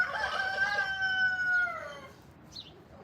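A rooster-like bird call outdoors, one loud drawn-out crow lasting about two seconds, close and clear, followed by a faint short chirp.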